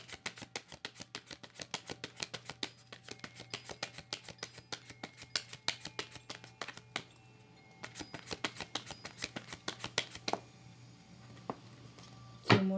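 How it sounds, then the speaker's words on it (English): Tarot cards shuffled by hand close up, a rapid series of crisp riffling flicks in repeated bursts with a brief pause midway, over a faint steady hum. "Two more shuffles."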